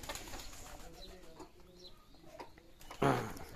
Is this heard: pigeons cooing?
yes